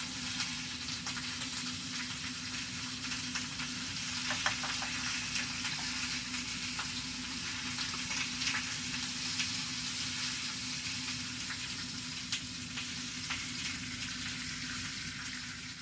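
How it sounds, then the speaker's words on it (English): Flour cooks in a pan with a steady, even sizzle that holds throughout, along with a low constant hum and a few faint clinks, and no one speaks. "what we're doing now is just cooking that flour, raw flour taste off"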